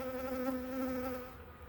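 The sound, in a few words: honeybees buzzing around an open beehive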